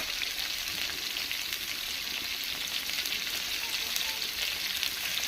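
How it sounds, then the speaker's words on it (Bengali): Potatoes and pointed gourd fry in hot oil with salt and turmeric, giving a steady, close sizzle with a bright hiss and faint crackles that hold evenly throughout. "এবার আলু পটলগুলো লাল লাল করে ভেজে নেব"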